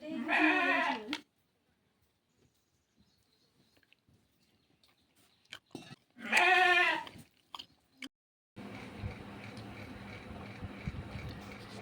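Close up, a ram gives two loud, drawn-out bleats several seconds apart, with quiet rustling between them. A steady background noise rises afterward.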